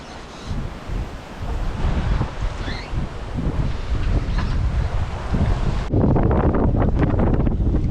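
Loud wind buffets the microphone in heavy continuous gusts of over 20 knots at sea aboard a swing-keel sailboat, with water and waves rushing beneath and no voices.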